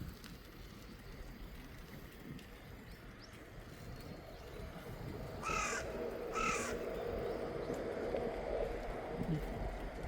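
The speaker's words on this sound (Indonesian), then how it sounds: "Di Jepang tuh banyak banget burung gagak." Two crows caw in quick bursts in a quiet rural Japanese village, one short call and then a second a moment later, carried over a steady outdoor hiss and low wind rumble.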